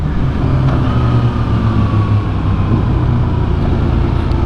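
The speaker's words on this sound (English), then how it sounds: "so here I am rev matching with the throttle the old-fashioned way" A 2024 BMW S1000RR engine roars steadily under a rider's throttle, with a slow downward drift in pitch and constant loud wind and road noise throughout.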